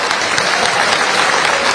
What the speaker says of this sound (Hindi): ताली बजना चाहिए इस बात पर।